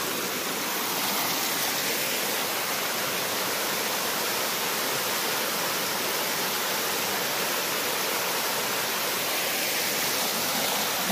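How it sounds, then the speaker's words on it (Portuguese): A waterfall cascading at the Goiabol falls and cascade in Bom Jardim makes a steady, loud, broadband rushing roar that holds unbroken throughout, close by and with no voices. "Acabei subindo aqui no meio da cachoeira."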